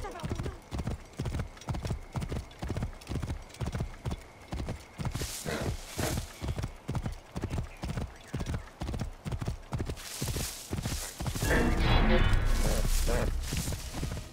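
Horse hooves pound in a steady, rapid galloping rhythm in the video game Assassin's Creed Origins. The hoofbeats stay loud and continuous throughout, swelling into a denser rush near the end, with a voice audible over them.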